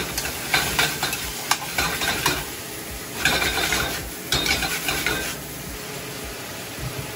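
Chicken and carrots cook in a pan with a steady sizzle, broken by repeated scraping and stirring strokes from a utensil against the pan, all close and continuous with no talking.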